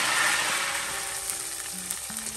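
Ginger and garlic frying in hot oil for a tadka for palak paneer, a dense steady sizzle up close, with faint tonal hums underneath and no talking.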